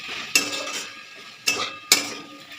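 A spoon scrapes and knocks against a pot three times while radish curry, thick and cooked down with prawns and garam masala, is mixed, each stroke a sharp clatter fading into a soft scraping, with no talking.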